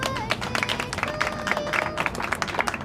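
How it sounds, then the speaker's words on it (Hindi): Applause at an Indian birthday gathering for Agra division secretary Sunil, a dense crowd clapping steadily throughout with scattered louder claps over a continuous wash of hands. "आगरा मंडल के हमारे सचिव सुनील जी बहुत जोरदार तालियां बजाते रहो।"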